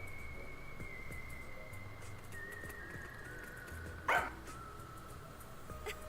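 Sugar, a pet dog in a video game, gives a single sharp bark in the middle of a quiet scene, with a thin steady tone and soft background hum around it.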